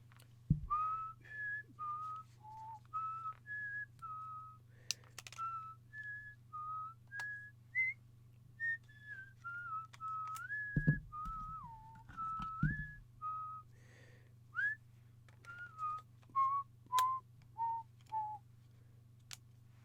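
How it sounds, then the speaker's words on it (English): A person whistles the Jeopardy theme song solo, a clear melodic run of short sustained notes with brief pauses over a steady low hum, with a few clicks and knocks in between. "should I whistle Jeopardy theme song for you guys?"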